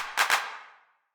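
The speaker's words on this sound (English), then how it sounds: "getting a simple clap sound, a kind of more analog sound" An analog-style clap sample from a sample pack: a sharp layered double clap followed by a decaying reverberant tail, then a brief second hit at the very end, dry and isolated.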